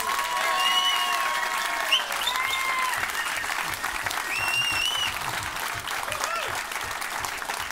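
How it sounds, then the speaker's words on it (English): A sold-out comedy club audience gives a big round of applause, loud and dense clapping sustained throughout, with scattered whoops and cheers rising above it. "So give them a huge round of applause."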